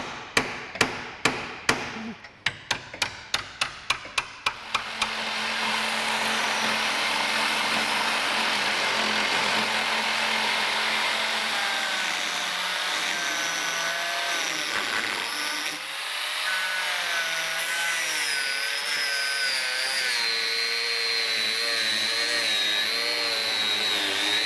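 A hammer strikes a ball joint splitter on a Porsche 986 Boxster S suspension, about a dozen sharp metallic blows in a quick, even rhythm, followed by a steady broadband mechanical noise.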